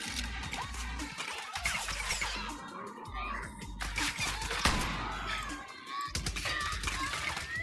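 Chaotic gunfire in Far Cry New Dawn crackles in bursts with thuds and shattering sounds, dense and noisy, with brief pauses between volleys.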